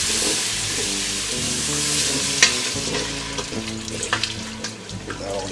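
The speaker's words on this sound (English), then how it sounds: "Now it tells us to stir our stock in" Stock being slowly poured and stirred into cooked onions and flour in a pot, giving a continuous close sizzle and liquid swirl with a few scraping clinks of the spoon.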